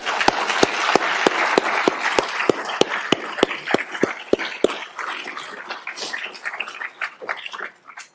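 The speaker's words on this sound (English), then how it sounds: "please join me in giving her a round of applause" Audience applause at a welcome session of a conference on the teachings of G.I. Gurdjieff, with a few loud, sharp, close claps in a steady rhythm standing out over softer crowd clapping that thins toward the end.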